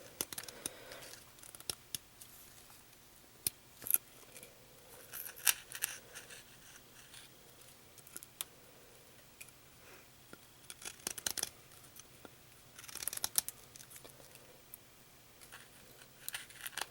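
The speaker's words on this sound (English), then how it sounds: "And then I'll go ahead and cut it right here" Scissors snipping and crinkling through the packaging of a Mora Classic No 1 knife, a few quiet cuts and rustles scattered across a faint, otherwise still room.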